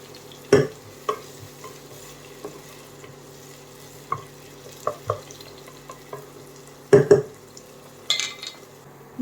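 Ingredients for a bulgur dish sauté in a pan with a soft steady sizzle, while a utensil stirs and scrapes against the pan in scattered, clinking strokes up close.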